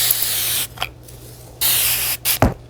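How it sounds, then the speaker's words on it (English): A Flairosol spray bottle filled with plain water fires long continuous mist bursts, loud and close, with a break between them and a final short spritz. "This is Flairsol, and it's a spray bottle."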